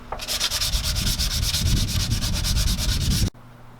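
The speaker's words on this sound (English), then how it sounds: "Hey, you still sanding?" Steady, loud abrasive sanding of a car body with a rapid rhythmic scrubbing pulse, running continuously before stopping abruptly near the end.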